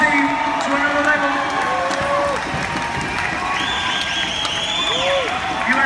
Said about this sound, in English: Keep those cheers coming.